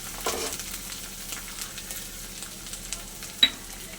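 Onion, ginger and garlic paste sizzles and fries in a pan, a soft continuous crackle with a couple of louder stirring scrapes.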